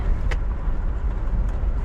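A Chevrolet Avalanche truck crawls along a beginner offroad trail, its engine a steady low rumble with faint intermittent knocks and rattles close by.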